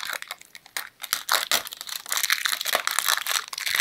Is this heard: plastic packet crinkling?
yes